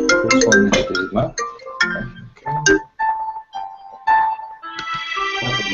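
A phone in an office rings with a melodic electronic tune: a choppy run of bright notes, then sustained tones with short gaps, clear and fairly loud.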